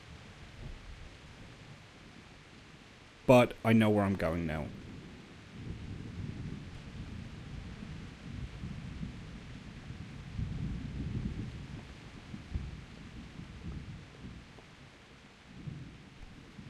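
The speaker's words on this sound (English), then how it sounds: "The downside with this thunder is it's going to make it even harder to hear if someone else is in the room with me." Video game thunder breaks in one sudden loud crack, then rolls off into a low rumble over steady rain; a voice speaks briefly.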